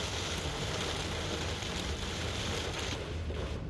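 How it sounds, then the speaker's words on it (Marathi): Heavy rain pours over the Bandra-Worli Sea Link in Mumbai beside a surging sea, a dense, steady hiss of downpour that fills the whole clip without a break. "दमदार पावसाला सुरुवात झालेली आहे"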